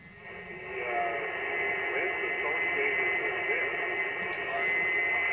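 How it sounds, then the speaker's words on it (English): Three steady interfering carrier tones whine on a ham radio receiver, holding constant pitch over a faint hiss of static and a barely audible distant station underneath. "now you can hear those three tones"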